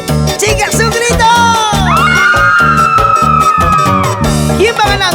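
Women in a crowd at a live music show let out a long, loud collective scream, rising and holding over a pounding band with drums and bass.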